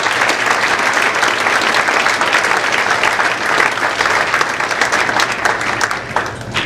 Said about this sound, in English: Folks, can you please give him a round of applause,